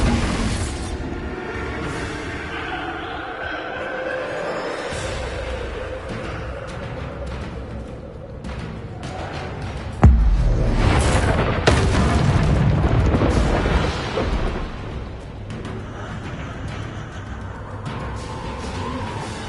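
Repeated Confringo and Bombarda spell blasts from Hogwarts Legacy, heavy booming explosions rolling one after another with a sharp, loud burst near the middle and dense rumbling throughout, no talk.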